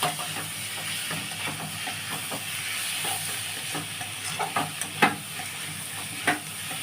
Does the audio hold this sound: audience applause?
no